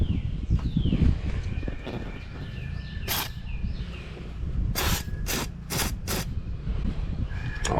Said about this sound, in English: I'm gonna give that a shot, see how much of the can actually holds up. Little squirt don't hurt.